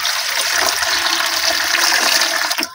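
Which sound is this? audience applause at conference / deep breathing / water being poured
water being poured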